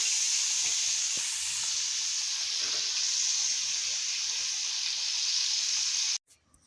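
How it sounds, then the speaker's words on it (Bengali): Small fish slipped one by one into hot oil set up a loud, continuous hiss of frying that holds steady, then cuts off abruptly near the end, followed by a couple of faint clinks. "মাছগুলো ছেড়ে দিচ্ছি এক একে।"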